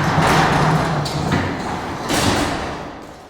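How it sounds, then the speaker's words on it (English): A garage door is pulled back down by hand, giving a sliding rumble with two heavy thuds about two seconds apart, the second followed by a fading rattle. "And then when you're done, you can easily pull it back down"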